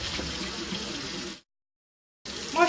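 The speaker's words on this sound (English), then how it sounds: "So I'm going to wash my face here." Cold tap water running into a bathroom sink while a face is being washed, a steady splashing stream that stops abruptly, pauses in silence, then resumes.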